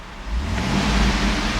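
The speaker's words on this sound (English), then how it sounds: "I'm going to rev the engine." A black 2011 Cadillac Escalade AWD engine rises from idle into a sustained rev, a loud, close, rumbling roar that holds steady after climbing, with no voices.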